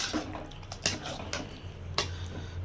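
Mushroom curry stirred in a pan, with a few scraping clinks of a spoon against metal over a faint background hiss, ending in a sharper knock.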